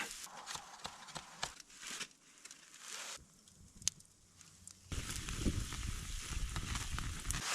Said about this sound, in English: We're gonna set it over this fire and just sear the outside